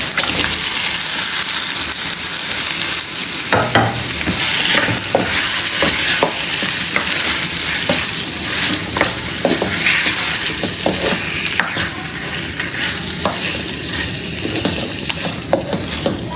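Chicken pieces hit a pan of browned onions and fry with a loud, steady sizzle for an aloo gosht curry, broken by repeated scraping and clanking of a spoon stirring the pan.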